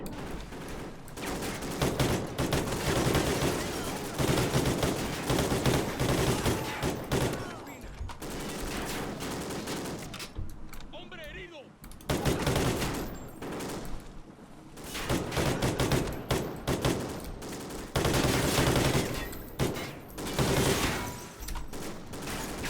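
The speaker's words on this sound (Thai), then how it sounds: "ยิงสวนกันนะ" Rapid, sustained gunfire from the Call of Duty Ghosts video game, with dense automatic bursts and barrages that barely pause through the whole stretch, loud and up front, with a brief lull partway.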